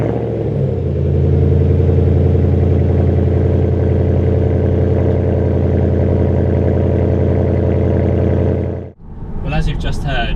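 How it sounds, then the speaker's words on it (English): A Jaguar XK8 fitted with an Adamesh aftermarket exhaust starts from cold with a loud, deep, steady growling idle close by, then a voice speaks briefly after the engine cuts. "there's a definite growl when it starts up from cold, and it's a definite increase in noise from what it was before"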